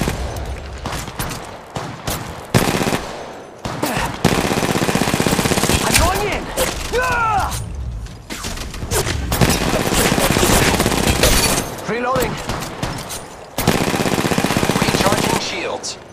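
Loud automatic gunfire from Apex Legends Mobile rattles in long sustained bursts separated by brief gaps, with in-game voice callouts heard now and then.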